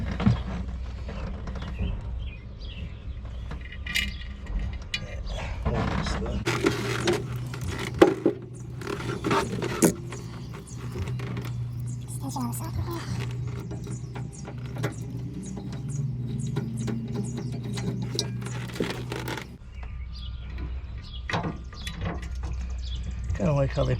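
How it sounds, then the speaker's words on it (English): A power driver runs screws into the bed rail of a 2020 Jeep Gladiator, giving a steady motor whir for several seconds with scraping and handling noises around it, while a person talks. "Go ahead and start our screws."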